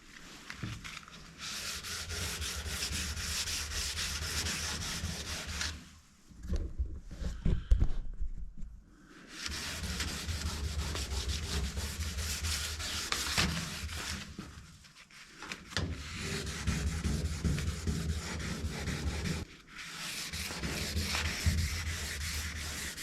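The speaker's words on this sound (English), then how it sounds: "I am going to have to go over this sort of waistline bulge here and smooth that down real nice" Hand sanding of bodywork filler on the waistline of an old GMC truck, long continuous rasping strokes close by, broken by short pauses.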